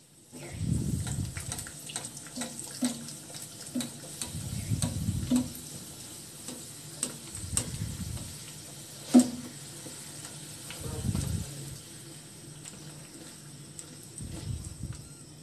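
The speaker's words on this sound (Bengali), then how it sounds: "একইভাবে আমি সবগুলো লুচি ভাজিয়ে নেব।" Bengali luchi, soft white puffed flatbread made from flour dough, frying in hot oil, with a steady sizzle punctuated by periodic low bubbling surges as each piece is slid in and turned, plus occasional sharp utensil clicks.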